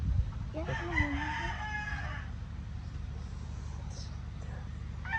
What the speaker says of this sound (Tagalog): Daming pansabong, oh.